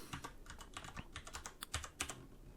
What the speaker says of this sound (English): I'll type it here.